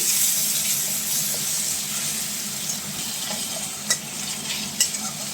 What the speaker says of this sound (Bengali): আমি একটু পেঁয়াজ আর রসুন ঘষে নিয়েছি বাটি নিয়ে এটা ঘষে নিয়েছি সেটা একটু ভেজে নিচ্ছি